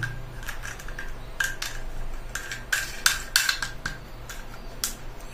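Quick plastic clicks and scrapes from tightening the nut on a replacement toilet tank flush switch, a string of short, close, fairly quiet ticks over a low steady hum.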